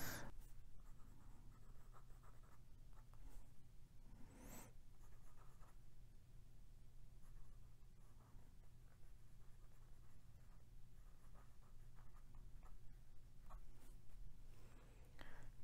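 A Pilot Custom 74 fountain pen with a medium nib writes on paper, giving faint, continuous scratchy strokes with brief pauses over a low steady hum, close and quiet with no voice.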